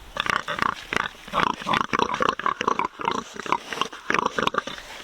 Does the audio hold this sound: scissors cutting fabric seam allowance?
no